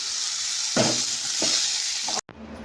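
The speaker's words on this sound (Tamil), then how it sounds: "அடுத்து கீரை அரிஞ்சு வணக்கணும்" Chopped spinach greens sizzle and crackle steadily as they sauté in a pan, with a few louder stirring scrapes before the sound cuts off abruptly near the end.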